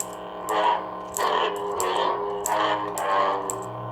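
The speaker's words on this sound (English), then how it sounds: "swings" Lightsaber swing effects from a Luke Skywalker sound font on an LDM MK-VI saber: several humming, distorted whooshes rise and fall in quick succession, loud and close, with no talking.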